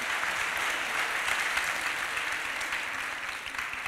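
A hall audience claps steadily and fairly loudly after a round-table discussion at a morning parenting conference, sustained dense applause without pause.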